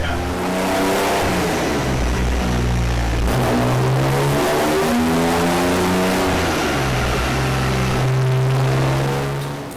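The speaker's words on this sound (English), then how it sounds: "we're just gonna calibrate the car to the dyno" A BMW E36 M3 with individual throttle bodies and an OBD1 conversion runs on a dyno during a tuning session, its engine holding a loud, steady drone with shifting harmonic pitch, close up and continuous, with no speech.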